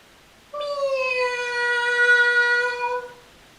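A single drawn-out cat yowl on a garden wall at night, voiced by a person imitating the cat. One steady, tuneful wail lasts about three seconds, loud and close, with no other sound around it.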